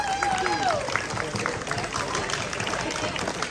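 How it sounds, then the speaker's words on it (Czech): Outdoor crowd applause at a street guitar concert in a pedestrian zone, scattered clapping and cheering in a noisy open-air setting, with some voices and a rising whistle-like tone mixed in near the start. "Prosím, obrovský potlesk, protože to bude dobré."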